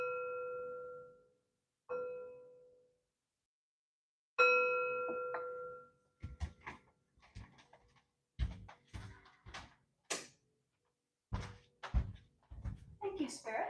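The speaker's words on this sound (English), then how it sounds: "Three chimes to bring in positive energy." Three clear chime strikes ring out one after another in a quiet room, each bright tone decaying slowly, followed by someone speaking.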